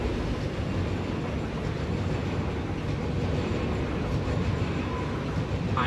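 A train in the Satisfactory video game rolls along its tracks with a loud, steady low rumble and rattle that continues without a break throughout.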